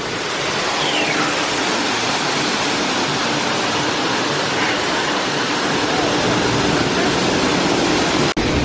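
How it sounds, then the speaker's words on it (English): Broadband rushing water from a waterfall at Busch Gardens Tampa pours steadily and loudly, a constant hiss-like roar that barely changes and is briefly interrupted by a click near the end. "You like the waterfall?"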